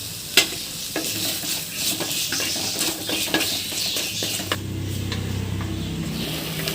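Tomatoes sautéing with rock salt in a clay pot for fish thokku, with a continuous sizzle broken by repeated sharp scraping and clinking stirs, close and fairly loud, then a steadier frying hiss at the end, and no talking.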